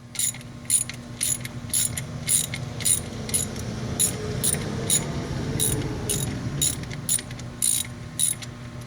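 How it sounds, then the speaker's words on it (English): A ratchet with a 15mm socket snugs down the front brake bolts on a Pontiac Grand Prix. It gives a close, regular series of crisp clicking strokes, with a brief steadier stretch of turning in the middle. "we're just taking our 15mm and going to go ahead and snug these both down here"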